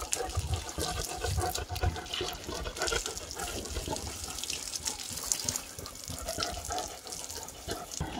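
Running water poured outdoors to bathe young pigs, a steady broad splashing rush that continues throughout with no clear talk over it.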